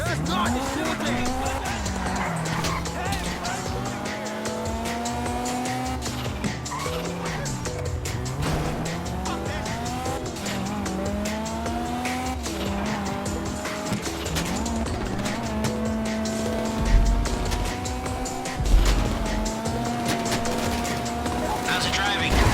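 A Grand Theft Auto V heist car drives hard, its engine whining and rising and falling with gear changes while tires squeal repeatedly through turns, under ongoing game dialogue.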